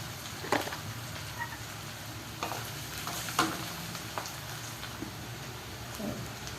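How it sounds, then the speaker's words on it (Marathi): Peanuts and ginger-garlic paste sautéing in a pan for Maharashtrian vangyache bharit, a low steady sizzle broken by a few soft stirring scrapes spaced a second or two apart, with no one talking. "आलं लसूण पेस्ट चांगलं परतून घ्यायचं."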